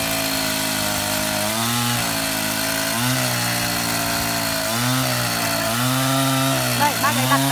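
A chainsaw runs continuously while cutting a large ironwood (lim) log at a timber yard, its engine pitch dipping and rising under load through several cuts, loud and close, with people talking nearby.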